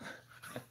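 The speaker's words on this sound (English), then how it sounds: "Fucking dog." A dog pants and whimpers softly with a brief yip, faint and close, in a quiet indoor room.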